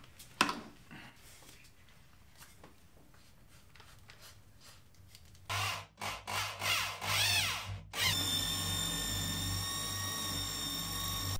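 A power drill mounts fixtures in an apartment, whirring in several short bursts of rising and falling pitch, then settling into a steady loud drone after a quieter stretch of room sounds.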